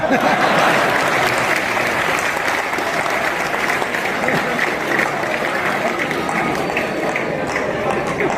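An audience at a Hindi kavi sammelan poetry gathering applauds in a dense, continuous roar of clapping that stays loud and steady throughout, with no clear talk over it.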